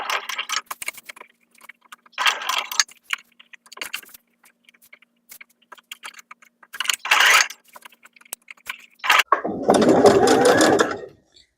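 A sewing machine stitches around fabric seams in short bursts, several quick runs of rapid needle clatter separated by pauses, with a longer louder run near the end, close and alone.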